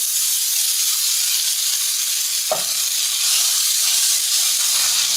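Hash browns fry on a hot griddle with a loud, steady, broadband sizzle that never lets up, and a brief scrape of a spatula breaks in midway.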